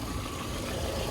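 A used car with 180,000 miles idles steadily close by, a smooth continuous engine hum with no talk over it.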